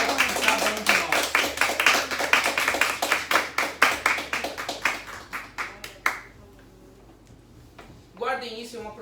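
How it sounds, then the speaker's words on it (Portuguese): Church congregation clapping in praise, a rhythmic, fairly close round of claps that slows and tapers off after about six seconds, followed by a brief stretch of quiet and then a voice speaking. "E eu convido você a dar um aplauso ao Senhor"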